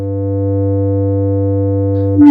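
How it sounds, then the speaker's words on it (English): A steady, loud tone from a self-oscillating filter on a modular synthesizer drones on, a pure resonant sine pitch with a faint buzzy edge, ending in a brief burst of noise. "The filter is self-oscillating at a sine wave."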